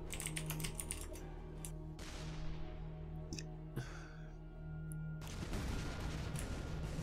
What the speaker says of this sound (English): I wasn't watching because I was typing.